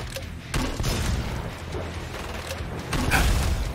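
Gunfire in the video game Killing Floor 2, heavy booming shots and mechanical clatter bursting out a few times over a dense, noisy background of game action.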